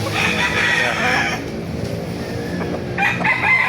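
A rooster crows loudly and close at a chicken market in Baliuag, Bulacan, with other fowl clucking and a second crow starting at the end, over crowd murmur.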